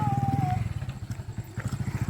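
A motorcycle engine putters steadily nearby with a rhythmic low throb; a brief whistle-like tone rings out at the start.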